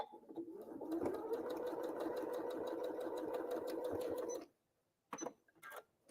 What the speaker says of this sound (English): And then I'm going to sew directly on the other side.